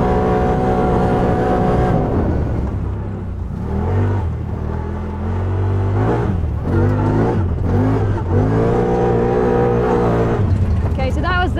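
A race car drives a passenger lap around a track, its engine loud and close, rising and falling in pitch as it revs through gear changes and accelerates out of corners.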